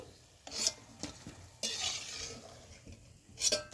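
Soft sizzling of mango fritters frying in oil, broken by a few sharp clinks and scrapes of a utensil against the pan, fairly quiet and close.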